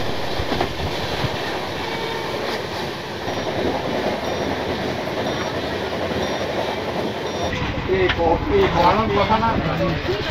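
The Padatik Express runs along the track with a continuous rumbling roll and rattling carriage noise, close and steady, with a clattering change near the end.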